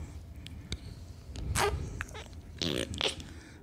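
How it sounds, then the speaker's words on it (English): A wet, juicy fart-like squelch repeats in two or three short bursts, close and fairly quiet, over a low background rumble during a charity livestream. "Sounds like a juicy fart"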